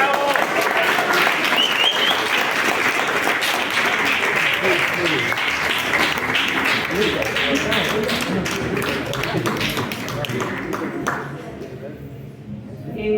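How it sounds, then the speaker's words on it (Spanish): Sustained applause from an audience at an award ceremony honoring Carmen Anrango, dense steady clapping with some voices mixed in, fading slightly near the end. "Vamos a darle nuevamente un aplauso a Carmen"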